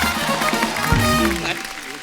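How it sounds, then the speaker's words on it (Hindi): A studio audience on a comedy talk show applauds for actor Ravi Kishan, a dense burst of clapping with voices and laughter rising over it, close and lively throughout. "उसके लिए जोरदार तालियां हो जाए"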